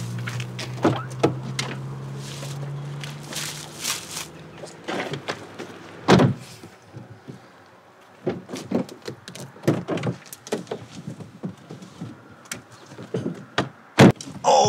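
A car door eases shut on its own with a soft-close pull, giving a solid thunk among rustling, handling noises and other knocks and thumps, close by with no talk.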